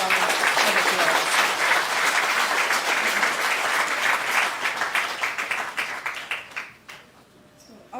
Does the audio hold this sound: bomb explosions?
no